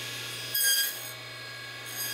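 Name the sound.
cutting box joints in wooden box parts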